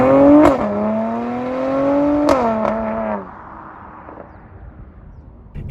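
A 2021 Mercedes-AMG C43 engine revs hard twice with sharp exhaust cracks at each peak, then drops to a quieter idle with faint pops trailing off, heard close and loud.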